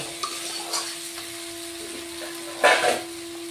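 Potatoes fry in spiced oil for a chapila fish curry, giving a soft, steady sizzle with a few louder bursts of spatter and stirring near the end, with no talking.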